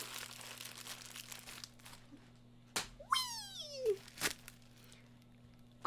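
Plastic wrapping on a package of coloring pencils crinkles and tears in short bursts, with a few sharp snaps and squeaky rubs close by, under a steady low hum.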